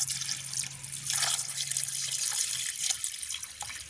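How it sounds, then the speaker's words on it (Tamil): Prawns being washed by hand in water while cooking in a village kitchen, a steady close splashing and trickling with occasional drips, no talking. "இப்போ நாங்கள் முதல்ல இருக்கிறதுனால கழுவி எடுப்போம்."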